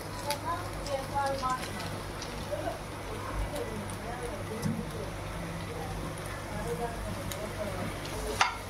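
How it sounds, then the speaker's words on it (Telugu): Onions sizzling in a pan with half-fried carrots, a steady crackling fry with faint stirring clinks, close by, under a low continuous hum. "ఇప్పుడు ఈ ఆనియన్స్ని బాగా ఫ్రై అవ్వనిద్దాం"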